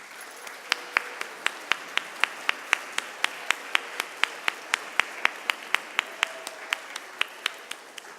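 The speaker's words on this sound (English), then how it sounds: "Could you stand, please, for a round of applause?" A small group at a youth arts festival opening ceremony applauds art teachers. The claps are sparse, regular and fairly faint, standing out against a quiet room.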